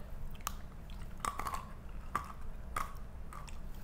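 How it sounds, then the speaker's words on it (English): Homemade chicken-based Cheetos are bitten and chewed close to the mic, giving several sharp crunches spaced about a second apart over a quiet, low background. "They're crunchy, like a Cheeto is supposed to be."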